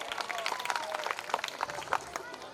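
A school audience gives enthusiastic applause to open a Ganesh Vandana programme, a lively, fairly faint crowd clapping with voices mixed in.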